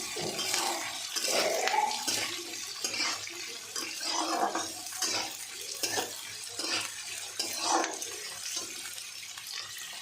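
Onions frying lightly in a pan, giving a soft, steady sizzle with intermittent stirring and scraping that rises and falls over the whole stretch, without talk.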